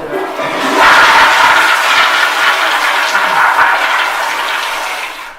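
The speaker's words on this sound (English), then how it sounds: "reinsert it back into the toilet, flushing it" A household toilet flushes loudly up close, a steady rushing gush of water that swells within the first second and holds for several seconds before tapering off, with no talking.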